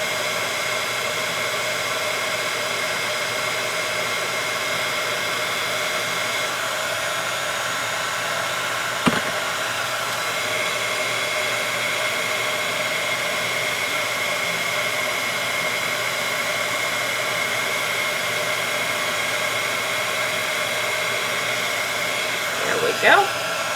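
A handheld heat tool blows hot air over a 5 x 5 Christmas card in a steady, close whooshing hiss that runs unbroken for over twenty seconds, marked only by a faint click partway through.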